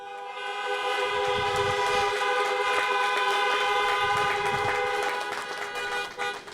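A crowd of car horns honks together at an outdoor drive-in high school graduation, making a dense, sustained blare of overlapping tones that swells and holds for several seconds before thinning out.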